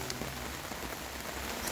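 Heavy rain pours down at a summer music festival, a dense, even hiss of drops striking surfaces that holds steady throughout, moderately loud and without voices.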